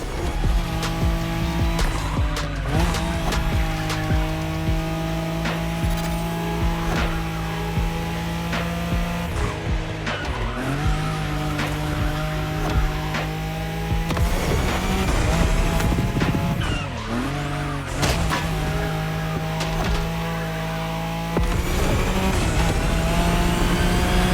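A Nissan Skyline race car in The Crew Motorfest roars continuously at close range, its engine note climbing and dropping through gear changes, with brief dips as it lifts off before revving hard again.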